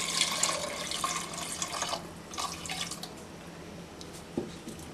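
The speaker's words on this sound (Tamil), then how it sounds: "கொஞ்சம் தண்ணி ஊற்ற போகிறோம்." Water runs from a tap into a pressure cooker holding mutton, a steady splashing trickle that comes close and moderately loud at first, then fades to a softer flow, with a small clink near the end.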